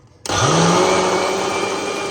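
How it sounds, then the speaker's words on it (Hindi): An electric mixer grinder kicks on abruptly and whirs loud and steady as it grinds rice in its large jar, the motor pitch climbing briefly before settling into a continuous high drone. "हम अपन मिक्सर में बड़का जार में मिक्सर चलाबे छी हम"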